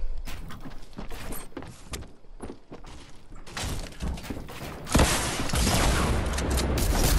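A legendary infantry rifle fires in Fortnite Battle Royale: a run of sharp, separate cracks, followed by a louder, sustained burst of rapid shots and explosive noise in a busy match.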